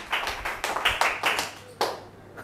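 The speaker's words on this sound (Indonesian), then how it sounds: "Yang percaya berikan tepuk tangan buat Tuhan." A handful of people in a church audience clap in a loose, uneven burst of distinct sharp claps, close and fairly loud, trailing off into quiet.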